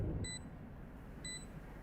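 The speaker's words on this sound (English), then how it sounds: "As soon as he hears that alarm bot being placed" An alarm bot being placed in Valorant during a pro VCT Americas match, two short, faint electronic beeps about a second apart over a steady low rumble of game ambience.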